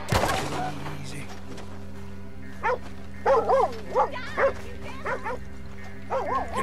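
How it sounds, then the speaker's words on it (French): Wild dogs barking in the video game Red Dead Redemption 2, a series of short yips and barks in quick bursts over a steady low game ambience, following a louder opening moment, with no voices on top. "Ok, c'est des chiens sauvages"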